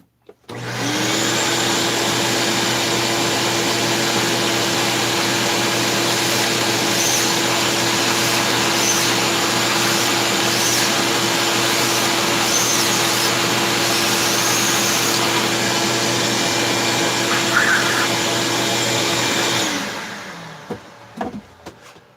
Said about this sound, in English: That vacuum really is a good tool.